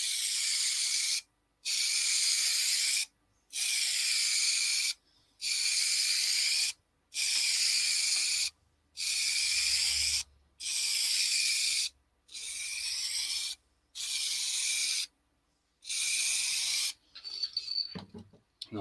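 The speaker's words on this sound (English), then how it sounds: "whenever you're spraying, it's always best to start at one side, off the piece, go across and finish at the other side" Spray gun hissing paint across a workpiece in repeated passes, about ten steady bursts each a second or so long with short gaps between, loud and close, ending with brief handling clatter.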